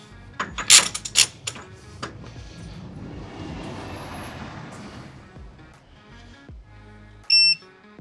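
Axle nut on a 2011-2017 Chevy Caprice PPV rear wheel bearing job being torqued with a torque wrench: a few sharp metallic clicks, then steady mechanical rattling, and a short bright electronic beep near the end.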